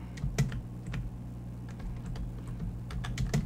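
Computer keyboard keys tapped during a Roblox game, a steady patter of light clicks with a few louder presses, close and alone over a low background hum.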